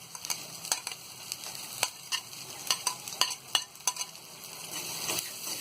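Fried peanuts and dry fruits stirred into poha chivda in a pan, with a string of sharp spoon scrapes and clicks against the metal over a light sizzle, irregular but frequent, close and without talk.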